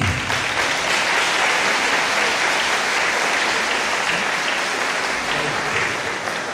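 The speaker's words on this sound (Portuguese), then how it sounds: "Uma salva de palmas para eles." A crowd at a men's rosary gathering in a parish in Santana do Ipanema, Alagoas, claps steadily, a dense, even roar of hands that holds at full loudness throughout.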